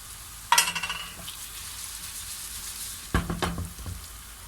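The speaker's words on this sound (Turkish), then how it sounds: "Köftelerimizi güzelce kızartalım." Two bursts of hot oil sizzling as meatballs drop into a pan, each crackling loudly then settling into a softer steady fry.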